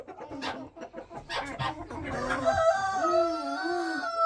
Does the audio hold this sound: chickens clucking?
yes